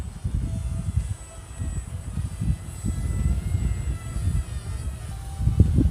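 An RC Z51 Predator drone buzzes steadily overhead on light throttle in high wind, a low droning motor hum mixed with gusty wind rumble, moderately loud throughout.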